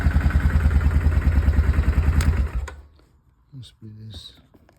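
A Yamaha Kodiak 450 ATV engine running with a rapid, even, close thumping beat, then cutting off abruptly, followed by a few brief faint sounds.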